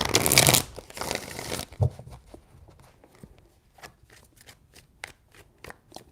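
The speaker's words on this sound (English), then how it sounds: "Three shuffles." Tarot cards being shuffled during a reading, first a dense rustling burst, then a run of quick separate flicks and light taps, close and fairly quiet, with no talking.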